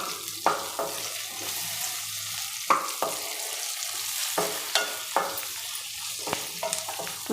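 Cumin and tamarind frying in a pan for a hulí saaru with field beans: a steady close sizzle runs throughout, broken by sharp scrapes and knocks of a spatula stirring at irregular intervals.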